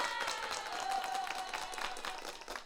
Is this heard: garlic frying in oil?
no